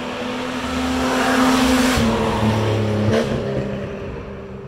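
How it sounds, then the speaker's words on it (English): A loud car engine approaches and roars past outdoors, swelling to a peak and shifting pitch as it goes by, then fading slightly; no one speaks. "I hear a loud car coming."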